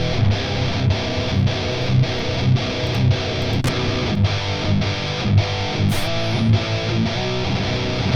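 Distorted heavy metal electric guitar tone, recorded and dialed in for a mix, chugging in a steady rhythmic riff with dense saturated crunch, loud and close throughout with no talking.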